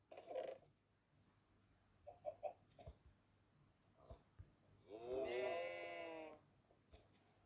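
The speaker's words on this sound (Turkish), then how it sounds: "Bu kadar şeyden sadece şu an bir koyun çıktı." Sheep in a block-building video game bleat in a few short, faint calls early on, then one long, loud wavering bleat near the end, with quiet clicks and thumps in between.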